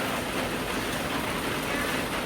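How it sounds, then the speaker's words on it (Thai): Steady, dense rain falls continuously as a loud, broadband hiss, with no pauses or voices. "โอ้ฝนตก"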